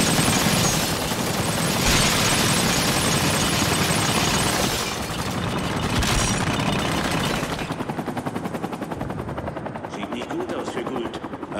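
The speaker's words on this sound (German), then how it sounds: "Verdammt, da kommt ein Heli!" A helicopter's rotor thumps loudly and steadily, mixed with bursts of gunfire and shouted German voices in a chaotic battle in the video game Spec Ops: The Line.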